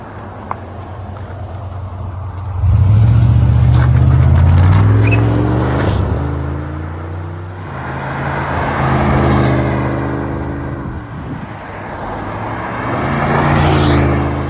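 A 1998 Bentley Continental Mulliner RSE drives past outdoors, its engine note swelling loud and close as it goes by, with a strong low rumble and rising gear tones, then a further pass builds again toward the end.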